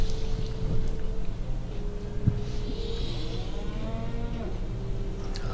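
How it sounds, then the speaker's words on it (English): A cow moos repeatedly in the Sam & Max: The Devil's Playhouse adventure game, a steady low bellowing over a constant hum of game background ambience with no talking. "The cow. The cow returns."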